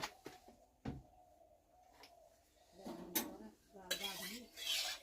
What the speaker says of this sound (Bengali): কড়াইটাকে হালকা করে ধুয়ে নেবো